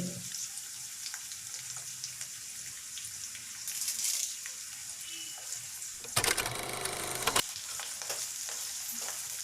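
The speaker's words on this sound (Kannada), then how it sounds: "ಈರುಳ್ಳಿ ಕರಿಬೇವು ಜೀರಿಗೆ ಸಾಸಿವೆ ಹಾಕೊಂಡು ಇಷ್ಟನ್ನು ಹಾಕೊಂಡು ಫ್ರೈ ಮಾಡಿರಿ" Onion, curry leaves, cumin and mustard seeds frying in a pan for sambar, a steady close sizzle with a brief louder burst of crackling spatter partway through.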